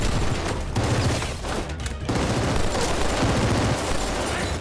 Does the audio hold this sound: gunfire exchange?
yes